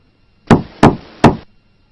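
Three firm knocks on an office door, close and evenly spaced within about a second, with no voices.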